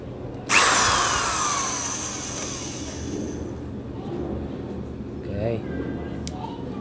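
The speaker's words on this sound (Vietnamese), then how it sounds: "hôm nay mình cũng thử với cái mũi vít khoảng 5 phân ha. Vít bắn gỗ 5 phân." Power drill driving a 5 cm wood screw into wood, a loud sudden whine that slowly fades over a few seconds, followed by quieter handling noises and faint speech.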